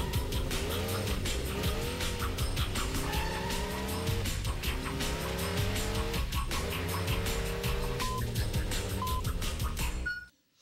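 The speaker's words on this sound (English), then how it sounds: "There's a number on the side of this car. It's gonna race by three times." A race car roars past several times on a game show, engine loud and continuous with rising and falling pitch sweeps and tire squeal, then cuts off abruptly at the end.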